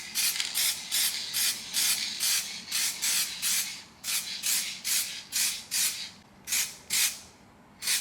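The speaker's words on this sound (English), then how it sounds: "Now we're going to spray over a few bits with the base coat, pewter grey, and clear it." Rattle can spraying pewter grey base coat onto a car valve cover: a steady run of short, sharp hissing bursts, about two per second, close and alone.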